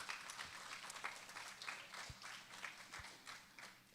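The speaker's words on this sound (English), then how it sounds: "please join me one more time in congratulating our class with another round of applause" Applause for a graduating class at a regional graduation ceremony, heard as a steady, fairly faint wash of many hands clapping without pause for about four seconds, with no talk over it.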